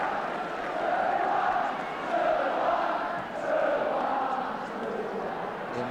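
A football stadium crowd at an Arsenal v Ipswich Town match chants in rising and falling waves, a rhythmic massed cry heard from a distance with no commentary over it.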